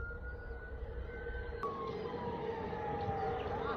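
A fire truck siren wails, sweeping up and down at moderate distance, its pitch sliding steadily over constant background traffic noise.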